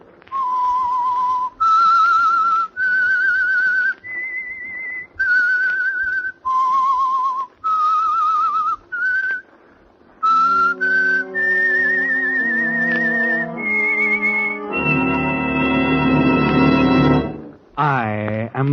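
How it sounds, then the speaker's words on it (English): A melodic whistle, loud and close, the signature theme of the radio drama The Whistler, played as a tune of sustained notes rising and falling, later joined by a fuller musical backing. "That whistle is your signal"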